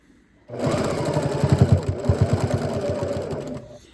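Sewing machine stitching through two layers of fabric on a self-lining bag, starting abruptly with a close, loud, fast mechanical chatter of rapid needle strokes for about three seconds before stopping, no talking.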